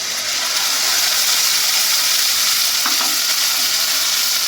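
A paste of dried red chilies, garlic, ginger, cumin and coriander powder fries in a pan, giving a loud, steady, unbroken sizzle for the whole stretch with no voices.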